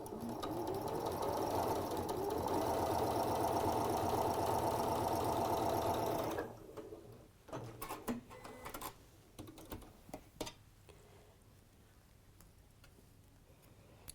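A sewing machine stitches a quarter-inch seam in a steady, loud whirring run for about six seconds, then stops; a few faint clicks and handling sounds follow.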